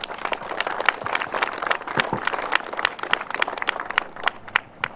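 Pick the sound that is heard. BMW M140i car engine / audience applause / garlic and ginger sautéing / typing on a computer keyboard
audience applause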